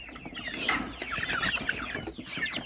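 Several chickens cluck and chatter together nearby, a busy overlapping flurry of short calls with no talking.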